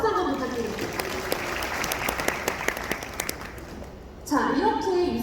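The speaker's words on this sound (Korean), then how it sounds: "박수 한번 부탁드릴게요." An audience at a business seminar claps in a steady patter of overlapping hand claps that stays at moderate volume, then gives way to a speaker's voice at the end.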